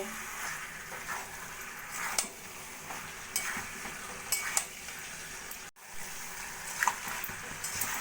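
Fried potatoes and pointed gourd are tossed with spices in a pan, producing a moderate sizzle with intermittent scraping stirs and one brief dropout midway, up close without speech.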